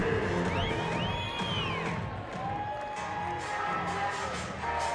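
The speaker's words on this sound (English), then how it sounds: "Listen to this place roar." A stadium crowd at a Banana Ball baseball game in Reno, Nevada roars and cheers in a steady, far-spread wash of noise, with shrill whistles rising above it and a commentator's voice faintly present.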